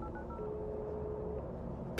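A telephone dialing tone plays for about a second, a steady electronic beep over a low background hum, in a dark horror game setting.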